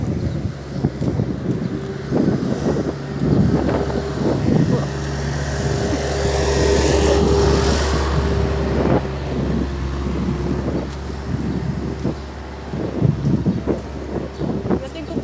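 Outdoors, a noisy vehicle passes with a steady low engine rumble under wind buffeting the microphone, swelling around the middle and fading, while a person talks throughout.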